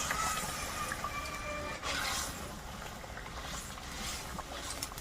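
A spicy mixed pond-fish curry boils in a pot with a steady, soft bubbling hiss and faint crackles, close and low in volume.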